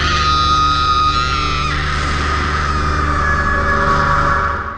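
An elderly woman screams loudly and continuously in the horror film The Silence, a long sustained shriek lasting several seconds with a dense music or effects layer beneath, fading at the end.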